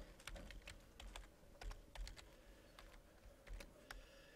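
Fingers tapping a computer keyboard while a function name is entered, a steady run of quick, close key clicks with small pauses, quiet and alone with no talking.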